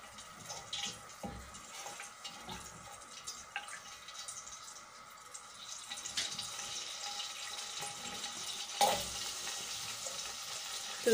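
Onions fry in hot ghee in a pan with a quiet, continuous sizzle. A few clinks and stirring scrapes come through, the sizzle grows somewhat louder toward the end, and no voices are heard.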